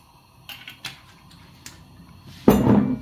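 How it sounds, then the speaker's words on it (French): A chef's knife chops leeks and onions on a cutting board: a few sparse, light taps, then one louder, denser burst of cutting near the end. "On va tout simplement commencer à couper les poireaux et les oignons."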